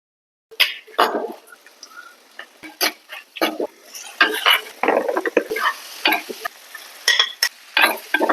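Irregular bursts of popping and spattering, like seeds sputtering in hot oil, come close and loud in quick uneven clusters after a brief silence.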